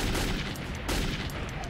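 Dense, continuous AK rifle gunfire in the Metro 2033 video game, loud and unbroken for the whole short moment, with rapid shots blurring into a steady roar.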